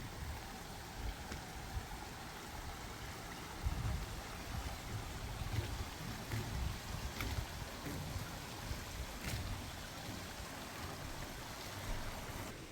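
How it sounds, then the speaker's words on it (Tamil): Forest stream flowing steadily on a hill trail, a soft continuous rush of water heard from a short distance, with faint occasional splashes and no voices. "எங்கே இருந்துங்க தண்ணி போயிட்டுருக்கு"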